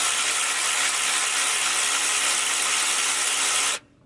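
Cordless Kimo ratchet straining against a tight fastener, a loud, continuous buzzing whir held for several seconds before cutting off abruptly.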